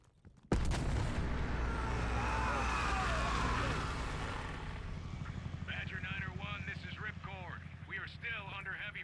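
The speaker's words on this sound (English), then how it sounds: "still under heavy fire." Heavy gunfire and artillery in the video game Black Ops Cold War open with a loud blast, then a dense roar of battle that fades slightly as radio-style voices talk over it.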